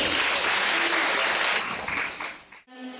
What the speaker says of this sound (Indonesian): Tepuk tangan dulu buat Mas Fit.